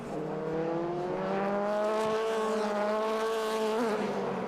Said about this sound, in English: All running these V8 engines, almost 500 horsepower.